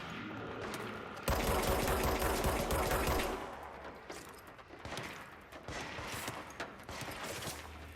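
A burst of rapid gunfire in the video game Control erupts loudly after a quiet start, rattling for about two seconds, then fades into softer scattered shots and background game noise.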